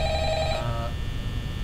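Telephone ringing in the horror video game Five Nights at Freddy's, an electronic bell ring that cuts off partway through, leaving a low background hum.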